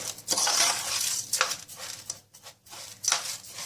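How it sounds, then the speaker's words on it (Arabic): A spoon stirs rice in a cooking pot, giving repeated scraping and rustling strokes with brief metallic clinks, close and fairly loud with short pauses between passes. "اهم حاجة هي التقليبة دي اهم حاجة عشان الرز بتاعك يفضل مفلفل"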